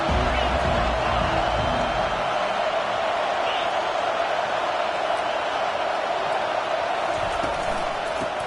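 Football stadium crowd at a Michigan State versus Rutgers game, a dense, loud and continuous roar of cheering and noise aimed against the offense, steady throughout and without distinct voices.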